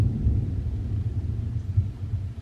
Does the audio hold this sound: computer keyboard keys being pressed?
no